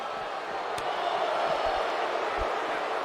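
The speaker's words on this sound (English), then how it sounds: "With every move you make, you hear this capacity crowd." A capacity arena crowd in the wrestling video game WWE 2K23 keeps up a steady, dense roar through the whole stretch, with faint low thuds from the ring mixed underneath.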